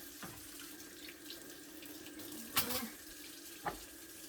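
A kitchen tap runs steadily into a sink while washing dishes, a constant close rush of water with a few brief clinks of spoons and bowls on top.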